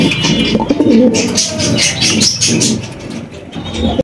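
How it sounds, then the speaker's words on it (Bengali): Magpie pigeons coo up close in a pigeon sale setting, with repeated throaty rolling coos overlapping, light chirps scattered among them and a constant bustle of birds behind. "এখানে কিন্তু আরো একজোড়া ম্যাকপাই কবুতর দেখতে পাচ্ছি"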